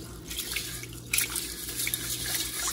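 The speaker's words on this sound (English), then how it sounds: "Washing this rice with a distilled water." Rice being washed in distilled water in a kitchen, heard close up as soft drips and light trickling that swell briefly partway through, quiet and with no talk.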